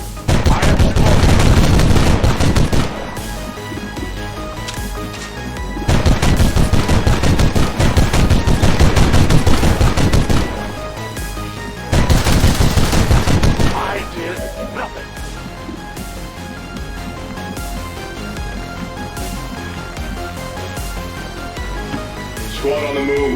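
Bursts of rapid automatic gunfire from the Warhammer-themed strategy game XCOM 2, loud crackling volleys lasting a few seconds each, separated by quieter gaps with a soundtrack bed and voiced character lines.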